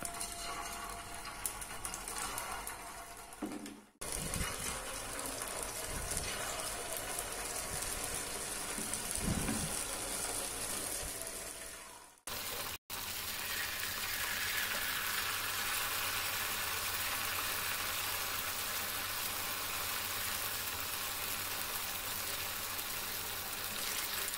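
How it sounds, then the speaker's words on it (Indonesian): Kiwi dough balls fry in hot oil with a dense, steady crackling sizzle, close up and continuous, interrupted by a couple of abrupt cuts before the bubbling carries on evenly to the end. "Minyak sudah panas, kita goreng saja bola-bola kiwi yang sudah kita bentuk tadi"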